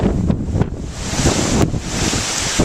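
Strong wind buffets the microphone as choppy waves slosh along the flooded shoreline of Sarasota Bay during Tropical Storm Debby, a loud, continuous roar with gusty surges and no talking.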